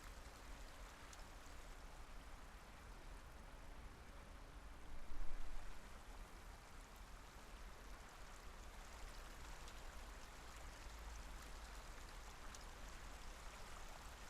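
Steady flowing water in the video game The Isle makes a faint, continuous rushing wash like a stream, with a brief slight swell partway through.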